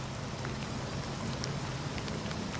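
Steady rain falling at an outdoor Purple Heart ceremony, a dense, even patter on surfaces with no talk, continuous and moderately loud throughout.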